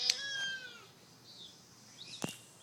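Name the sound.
cat meowing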